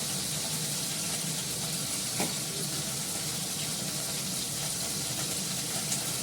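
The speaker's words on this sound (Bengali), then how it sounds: "নুন দিয়ে দিলাম, ভালো করে কষাবো" Spices with salt sautéing in a pan, a steady broad sizzle of frying that runs unbroken for several seconds, with a faint clink or stir partway through and no talking.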